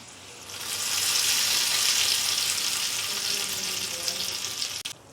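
Hot tempering of spices in oil poured into village-style peanut chutney, a loud steady sizzle and crackle rising quickly and holding for several seconds before tapering off at the end.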